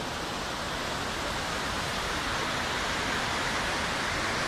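A mountain waterfall in Scotland pours in a dense, steady rush of broadband water noise, constant and moderately faint with no other sounds.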